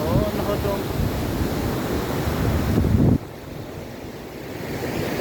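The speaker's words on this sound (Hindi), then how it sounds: "सही ठंडी हवा चल रही है।" Cool wind sweeps through Surgan Valley near the river, a loud, rushing buffet across the microphone that swells and then drops abruptly to a quieter hiss about three seconds in.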